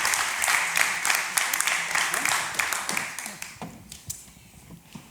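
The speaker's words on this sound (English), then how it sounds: "please give them an applause" An audience at an architecture conference applauds after speakers are thanked, with loud, dense clapping that gradually thins and fades out over a few seconds.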